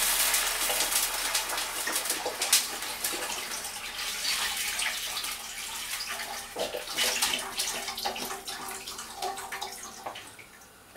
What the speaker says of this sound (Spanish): Una vez que tenemos los higaditos bien sofritos, les vamos a echar el caldo